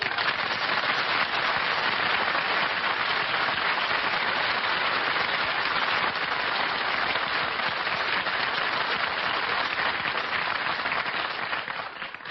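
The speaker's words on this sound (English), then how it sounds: "I didn't mind the applause he got on his entrance" A live studio audience breaks into long, sustained applause as a guest walks on, dense crowd clapping holding at an even level for about twelve seconds before it starts to fade.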